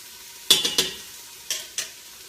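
Minced garlic goes into a pot for chicken lentil soup, with four sharp utensil clinks against the pot over a soft, steady sizzle, close and without talk.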